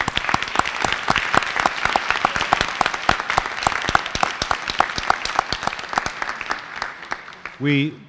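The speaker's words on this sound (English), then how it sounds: "give a big round of applause for all the parents, for all the help and assistance" An audience at a school event gives the parents a dense round of applause with sharp individual claps standing out, tapering off as a voice begins speaking at the end.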